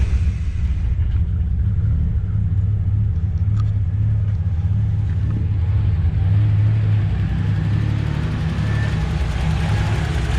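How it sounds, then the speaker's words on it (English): Nissan R31 Skyline engine starting cold and settling into a steady idle, a continuous low rumble with a faint light ticking on top, heard close up with no voices. "I'll start the car up and I'll show you sort of what the engine should sound like."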